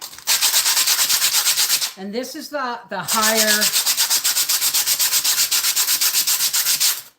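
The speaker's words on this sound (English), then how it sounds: "wrap it around my sponge to make a sanding block" Hand sanding of neglected, rusty cast iron with coarse sandpaper wrapped around a sponge as a block: loud, steady rhythmic scraping strokes, briefly interrupted by someone talking in the middle, then resuming.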